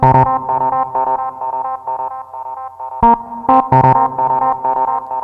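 A bright synth melody where every note trails off into repeating echoes, giving a smeared, stuttering rhythm with punchy accented hits near the end.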